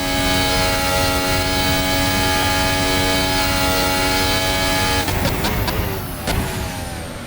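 High-revving F1 car engine screaming through a hot lap in a sim racing game mod, a steady loud whine with strong harmonics that turns into rough downshift crackles near the end.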